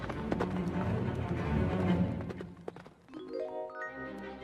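A horse gallops off carrying Snow White and a hunter through a forest, its rapid clip-clop hoofbeats loud and close for the first few seconds before fading into quieter ambient tones.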